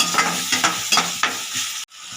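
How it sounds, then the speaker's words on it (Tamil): Onions and tomatoes with rock salt fry in a pan for crab gravy, stirred in a steady rhythm of scraping strokes over a soft, continuous sizzle, close and fairly loud. "வெங்காயம் தக்காளி வதக்கிட்டு இருக்கு."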